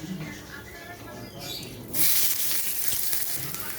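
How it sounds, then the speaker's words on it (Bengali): Faint background noise, then a sudden burst of hot-oil sizzling as onion is dropped into a pan with nigella seeds and dried chillies, frying steadily afterward. "কালো জিরে শুকনো লঙ্কা দিয়ে দিয়েছি এবারে পেঁয়াজটা দিয়ে দেবো"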